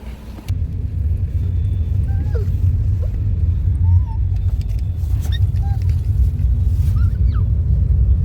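Interior of a moving car, a steady low engine and road rumble throughout, with a few faint, brief squeaks and small sounds above it.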